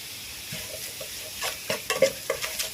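Beef for a Thai om-style curry stir-fried in a hot pan, a steady sizzle under repeated scraping and clinking of the spatula against the metal, growing louder toward the end, with no voices.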